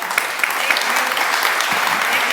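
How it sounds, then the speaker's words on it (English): An evening audience at a public meeting in San Luis Obispo County applauds, a dense, continuous wash of many hands clapping at moderate distance filling the whole moment without a break. "Can you all clap with me for that?"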